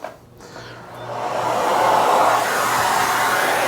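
Miele Guard M1 parquet vacuum cleaner starting up and running steadily, a loud continuous whoosh of suction that rises within the first second and holds, with no talking.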